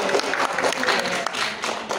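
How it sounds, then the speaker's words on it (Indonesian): A group gives applause at a batik workshop in Sokaraja, steady dense clapping of moderate loudness with a crowd murmuring and speaking underneath. "Tepuk tangan dulu untuk batik Anto ini."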